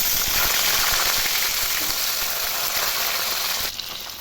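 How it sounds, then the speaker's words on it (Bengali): Fish fry in hot oil during preparation of a fish curry with Indian olives, with a loud, continuous close-up sizzle and crackle that eases slightly near the end. "তেল গরম হয়ে গেছে মাছগুলো ভেজে নেবো"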